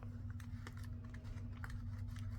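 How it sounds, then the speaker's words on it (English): A thumb notch is cut into a paper pocket made from a 12x12 sheet: soft, close clicks and small snips in quick irregular succession over a low, steady room hum. "And then we're just going to cut in our thumb notch."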